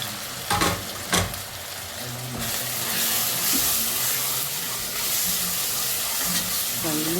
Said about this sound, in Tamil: இப்போ நம்ம இஞ்சி பூண்டு பேஸ்ட் போட போகிறோம்.